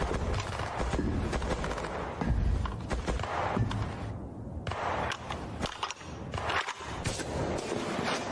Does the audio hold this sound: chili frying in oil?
no